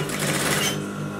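Sewing machine stitching the side seam of a V-neck bubu or abaya dress, a loud, fast steady buzz close up that runs for about a second and then slows down.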